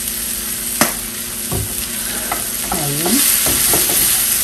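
Cumin and colouring sizzle in hot oil in a pot of lentil soup with meat while a spoon stirs and scrapes steadily, close and loud, with a sharp clink near the start.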